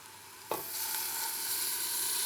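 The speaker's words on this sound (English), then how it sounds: "And now some stock, 1 litre of beef stock." One litre of beef stock poured into a hot stew pot of meat and green olives sets off a sudden loud burst of sizzling that settles into a steady, bright hiss and bubbling.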